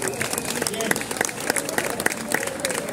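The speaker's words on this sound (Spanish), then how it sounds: "Un fort aplaudiment per ella." At a dinner gathering, people applaud a woman who has just sung, with uneven close claps and voices talking over them.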